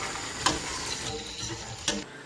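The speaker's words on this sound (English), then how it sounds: "When the water's boiling, add the pasta and give it a good stir to try and make sure it doesn't stick together." Pasta being stirred in a pot of boiling water, a continuous bubbling hiss with two sharp scraping knocks of the spoon against the pot, no voices.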